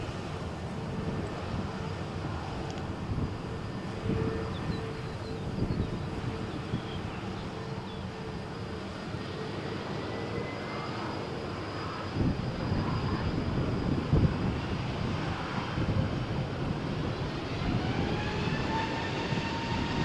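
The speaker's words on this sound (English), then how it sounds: "the SAS flight is now moving, still without call sign" An SAS passenger jet taxiing at Malaga Airport on a stormy morning produces a continuous low engine rumble and whine, with a rising tonal whine building near the end over steady wind noise and no talking.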